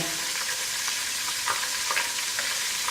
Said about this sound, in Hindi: मक्खन गर्म हो गया, इसमें मैं शामिल कर रही हूँ जीरा, तेज पत्ता